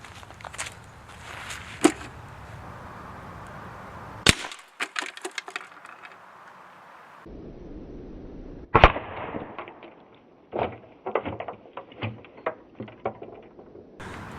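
A Hatsan Bullboss .25 caliber air rifle fires at a steel plate, giving sharp broadband impact cracks at about 1.8, 4.3 and 8.8 seconds. Scattered clatter and handling knocks follow between the shots.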